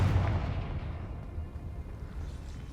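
A Confringo spell bursts in Hogwarts Legacy, a loud, close explosive boom with a heavy low rumble at the start that decays into a fading roar over a couple of seconds.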